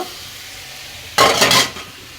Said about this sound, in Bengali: এখন আমি মাছটা এখানে দিয়ে আরেকটু কষায় নিব।